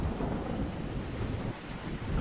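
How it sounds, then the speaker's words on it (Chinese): Heavy rain pours down outside, a dense, steady wash of noise that holds at an even level for the whole stretch, with no voices over it. "外面下大雨了"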